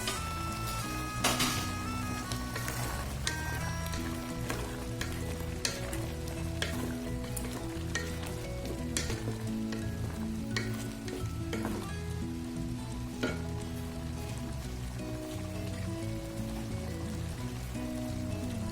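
Potatoes fry in a pan with adobo chicken liver in vinegar, giving a dense, steady close-up sizzle with crackling pops and occasional stirring scrapes and no talking throughout.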